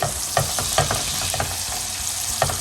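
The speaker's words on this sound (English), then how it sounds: "By putting the butter, by adding the butter, we'll make a texture which is a bit more liquid" Butter sizzles in a pan while making caramel for a tarte tatin, a steady hiss broken by a few soft stirring knocks spaced out across the sound.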